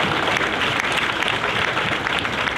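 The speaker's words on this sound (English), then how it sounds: "Ladies and gentlemen, round of applause for our educators." Applause for educators at a Marine recruit graduation ceremony at the San Diego recruit depot, a dense continuous wash of many hands clapping from a large audience, steady and fairly loud throughout.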